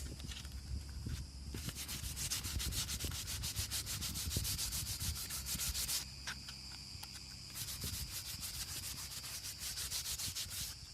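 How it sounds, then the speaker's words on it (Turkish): Rhythmic sanding scrapes as plastic headlight brow covers for a Tofaş car are rubbed down by hand, repeated strokes close up and steady, with a short pause partway through and no talking. "Far kaşlarını zımparaladık."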